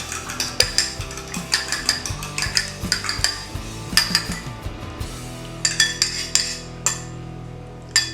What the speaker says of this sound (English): I'm just gonna beat up my 2 eggs a little bit.